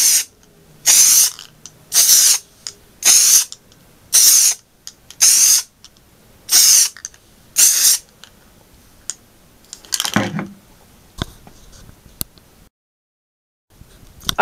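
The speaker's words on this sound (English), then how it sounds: "Alright, we are now at the spraying stage." Spray paint hissing onto a T-shirt for a Star-Bellied Sneetch design, eight short bright bursts in an even rhythm, close and loud, then scattered quieter handling noises and a brief silence.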